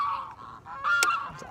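Goose honking loudly and close by, a run of harsh nasal honks with a sharper blast near the end, heard alone with no talking.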